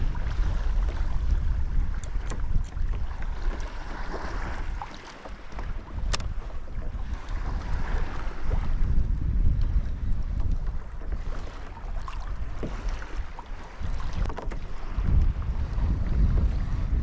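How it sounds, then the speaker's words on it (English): Strong wind roars steadily against the microphone on a fishing boat out on choppy water, with low rumbling gusts and the slap of waves. No voices are heard. "Man, this wind isn't making things easy either."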